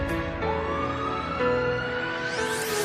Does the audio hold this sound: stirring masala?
no